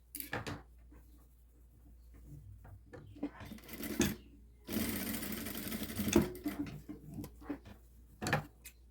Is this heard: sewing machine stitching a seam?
yes